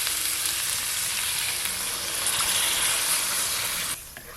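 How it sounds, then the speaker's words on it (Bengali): Loud, steady sizzling as water hits a hot pan of frying spice mix with potato and cauliflower for a cauliflower roast, a broad continuous hiss that drops off sharply near the end. "এবার জল দিয়ে দেব।"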